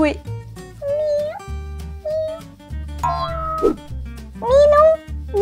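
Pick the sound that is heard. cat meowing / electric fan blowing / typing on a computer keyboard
cat meowing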